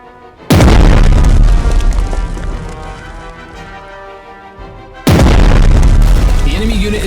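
Artillery fire and explosions from a main gun bombarding infantry in a PC strategy game set in an alternate Cold War: two huge, close booms, each followed by a long rumbling decay.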